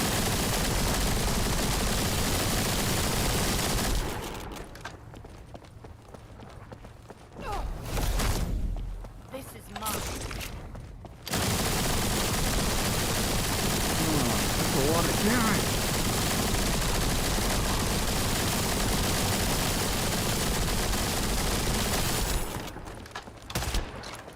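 Sustained automatic gunfire from a weapon in the video game The First Descendant, loud bursts filling most of the stretch with a brief lull in the middle, while a voice talks over it at times.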